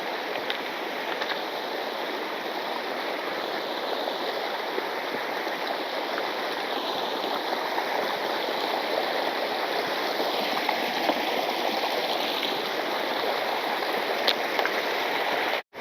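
A river in Kyrgyzstan rushes steadily and close by, a dense, unbroken wash of flowing water that holds the same level throughout, with no voices over it.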